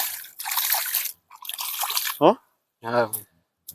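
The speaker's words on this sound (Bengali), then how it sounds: "এই যে সুন্দর মতো পানি নামে যেতেছে" Water drains off a flooded farm field through a cut channel, a rushing, splashing flow that comes in bursts between short quiet gaps, with a voice speaking briefly in between.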